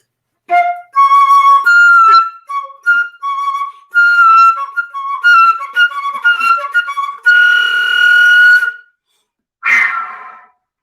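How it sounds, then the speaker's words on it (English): Breathy flute passages of short, bright notes and runs, ending in a sharp rushing jet-whistle burst after a pause. "that wonderful jet whistle moment"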